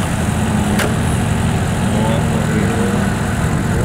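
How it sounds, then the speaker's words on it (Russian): Outdoors by reeds on a riverbank, a GAZ-66 truck's engine runs in a steady rough drone with a continuous airy whoosh from its turbocharger, loud and unbroken for the whole stretch. "Блин, турбина у него, конечно, дует"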